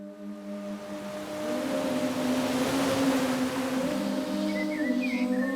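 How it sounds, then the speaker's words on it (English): Calm outdoor ambience in Costa Rica with a low steady hum and soft broadband wash like distant surf, faint chirps appearing near the end. "That's the sound of warm, delicious, glorious Costa Rica."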